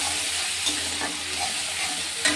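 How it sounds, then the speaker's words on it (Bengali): Tomato added on top of onions frying in hot oil in a pan, giving a steady, close, dense sizzle with faint stirring scrapes and a brief clatter near the end. "তাই পেঁয়াজের উপরে টমেটোটা দিয়ে দিলাম।"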